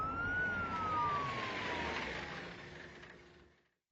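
A police car siren wails close by in one long falling sweep that fades out over a few seconds against a broad roar of traffic.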